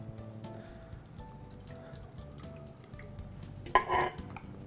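Coconut water is poured into a blender already holding avocado and frozen pineapple for a green smoothie: a short, close liquid splash and gurgle near the end, after quiet clinks and handling sounds.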